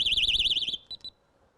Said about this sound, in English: if we try and touch the alarm, we get a warning